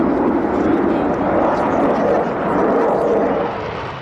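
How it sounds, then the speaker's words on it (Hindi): A British Eurofighter fighter jet flies past with a loud, broad, continuous engine roar that fades slightly toward the end. "ये ब्रिटेन का यूरोफाइटर है। यहाँ जर्मनी का यूरोफाइटर भी है।"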